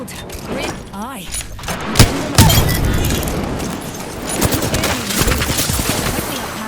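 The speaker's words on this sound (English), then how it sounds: "They're shooting at me." Gunfire in the battle-royale shooter Apex Legends, with rapid weapon bursts and sharp impacts close up, loud and chaotic, mixed with in-game callouts and a player talking over the fighting.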